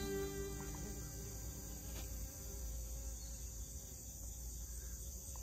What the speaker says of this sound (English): Oh, we got the honeybees now.